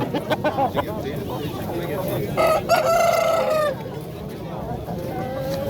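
A Dekan rooster crows once in a loud, drawn-out call at a busy poultry market, with hens clucking and people talking throughout.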